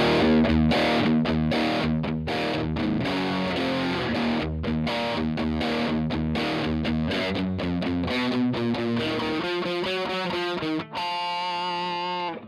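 Electric guitar played through a Boss MD-2 Mega Distortion pedal, thick saturated chords struck in a steady chugging rhythm, then ringing sustained notes near the end, loud and close with no talking.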